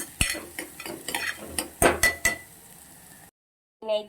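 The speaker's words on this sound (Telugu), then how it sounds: "ఉప్పు వేసి ఇప్పుడు కలుపుకోవాలన్నమాట" A spoon stirs salt into soaked rajma in a new steel pressure cooker, giving a run of scraping strokes and light metallic clinks up close, then a brief pause before a short final scrape.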